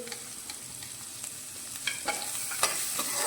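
Chopped onion and green chili sizzle and fry in a pan, a soft, steady crackle with occasional stirring scrapes and small pops, fairly quiet and without voices.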